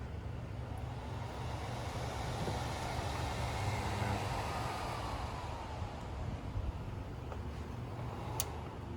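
A replacement blower for an Avalon Rainier, Pendleton or Olympic stove, repaired and running on a temporary power cord with its speed control set, gives a faint, steady, even whir that continues without change throughout.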